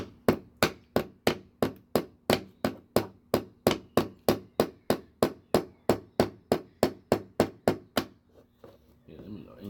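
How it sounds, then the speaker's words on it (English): A child hammers nails into wood, delivering a steady run of about two dozen sharp, close knocks at a quick even pace before stopping, followed by faint rustling. "Hammer it straight up and down."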